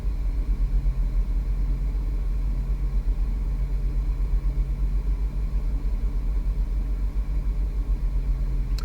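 A 660-horsepower Ferrari 488 GTB engine on a track, heard as a steady, loud low rumble that holds an even drone with a constant hum, alone without talk.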